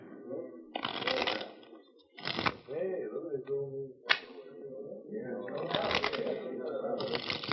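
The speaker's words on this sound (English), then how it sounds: "Mind if I shuffle them once?" A deck of playing cards is shuffled during a card game in a 1944 radio western drama. Several close, crisp bursts of riffling snap and flutter one after another.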